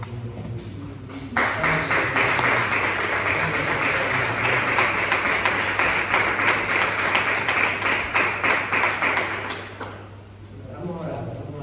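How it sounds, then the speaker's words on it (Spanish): A church congregation breaks into loud, sustained clapping that lasts about eight seconds, a dense even wash of hands from start to finish before it fades out and a voice resumes. "Dale un fuerte aplauso al Señor."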